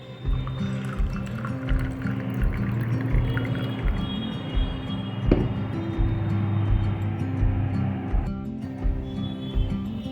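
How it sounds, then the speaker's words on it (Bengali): Warm water is poured into freshly made juice, giving a steady splashing trickle that lasts several seconds close by, over a looping rhythmic music bed. "গরম জল আমি এর মধ্যে দিয়ে দেব উষ্ণ গরম জল"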